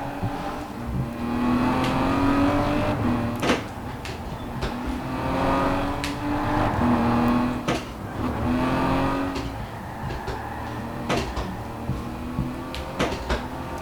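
A Falcon Indy car racing in a video game, engine whining and rising through revs with gear shifts, dropping and climbing again in repeated cycles, with clunky clicks and knocks over it, no talking.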